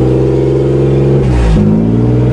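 A car engine cold-started on a winter day revs loudly up close, holding a steady idle, then swelling briefly in one rising rev before dropping back, with no talking.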